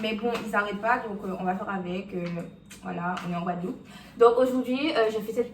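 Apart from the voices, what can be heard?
No everyday noises stand out.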